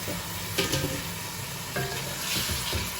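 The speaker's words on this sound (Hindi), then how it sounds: "ये प्याज ब्राउन हो रही है, इसके साथ ही मैं चिकन ऐड कर दूंगी।" Onions browning with chicken in a frying pan, a soft steady sizzle with a few faint stirring scrapes, quiet and close with no talking.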